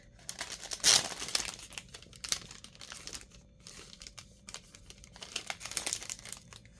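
Crinkly plastic packaging around a roll of foam tape is crumpled and torn in irregular close bursts, with quiet pauses between handlings.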